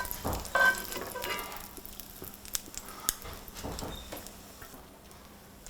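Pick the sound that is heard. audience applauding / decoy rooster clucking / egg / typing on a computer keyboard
egg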